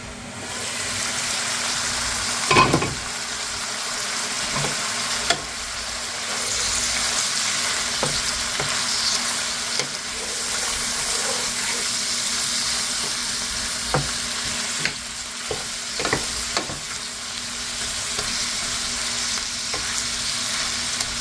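Stir fry cooking in a pan with a lid on, a continuous low sizzle and hiss running throughout with occasional clinks and taps of stirring, steady and moderately close.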